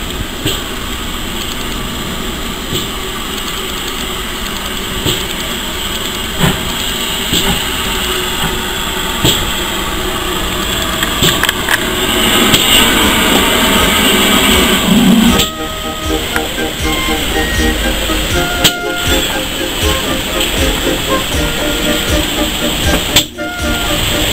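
A steady rumbling steam locomotive with hissing, close and loud for the whole stretch, with mechanical clanks and faint voices around it, at a heritage railway steam gala.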